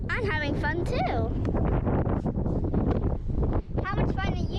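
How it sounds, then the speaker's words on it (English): Strong wind buffets the microphone on a beach at Greens Pool near Denmark, a steady roar running throughout while a child and an adult talk over it. "It's very windy here"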